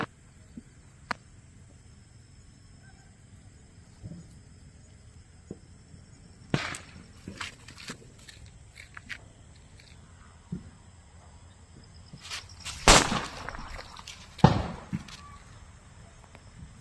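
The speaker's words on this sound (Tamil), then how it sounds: "இந்த வெடி அது இந்த வெடி லட்சுமி வெடி தான்." Lakshmi firecrackers bursting during Diwali celebrations outdoors: scattered sharp cracks and bangs over a quiet background, a few small pops early, then louder, closer blasts clustered toward the end.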